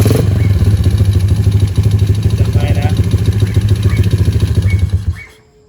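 A Motoposh Wave Style motorcycle engine runs after a magneto swap, a loud, close, steady idle with a pulsing low thrum that quickly fades away at the end.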